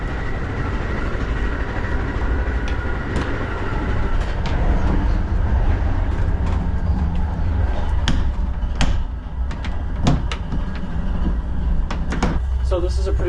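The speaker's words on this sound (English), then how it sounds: "You can hear a lot of track noise." Loud rumbling train noise fills an Amtrak sleeper bedroom, steady low roar with sharp clanks and knocks from the tracks, and a voice speaks over it at times.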